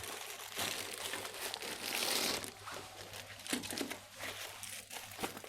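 Close, crinkly rustling of a light stand's carry bag being handled, with irregular crackles and soft thumps that rise and fall.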